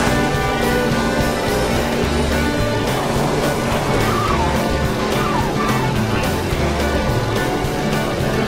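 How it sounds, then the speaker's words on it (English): Racing cars in the Cars video game, engines roaring continuously with skidding and tire squeal over busy game sounds, loud and dense throughout without a clear pause. "Revving up those engines, run out that boost."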